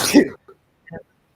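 A single abrupt sneeze bursts out in a room, loud and close, followed by a couple of faint small noises and then silence.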